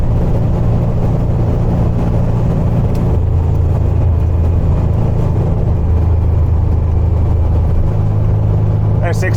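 A Volkswagen Beetle cruises at 60 mph with a steady, loud engine and road drone that shifts tone partway through.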